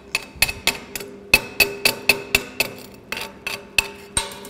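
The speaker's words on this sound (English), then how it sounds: "You'll notice how the slag's starting to peel. And we'll brush it off there like that." Wire brush scrubbing slag off a stick (SMAW) lap joint weld, heard as about a dozen sharp, close, evenly spaced scraping strikes with a metallic ring and no talk.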